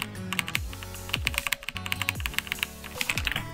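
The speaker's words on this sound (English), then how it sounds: "But listen to this, this is a mechanical," Typing on a limited-edition Razer Deathstalker gaming keyboard with white LEDs, a close, rapid and uneven run of crisp key clicks and taps with brief pauses between bursts, no talking.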